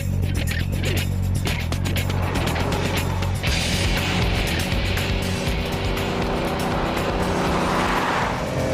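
Bugatti EB110 sports car driving hard, a loud engine roar that shifts in pitch as it brakes and downshifts, with rushing wind and road noise throughout.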